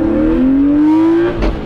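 E36 BMW M3 with a limited-slip differential and very short gears, pulling hard: a loud, close engine note rising steadily in pitch as it accelerates through a gear, then a quick shift with a brief drop and burst near the end.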